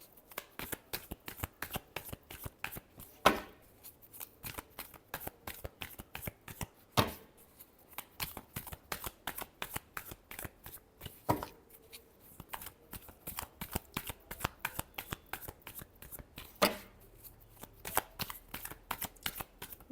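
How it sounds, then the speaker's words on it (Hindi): A deck of tarot-style reading cards is shuffled close up over and over, making crisp riffling flutters and sharp taps in an uneven rhythm, with no talking. "last shuffle"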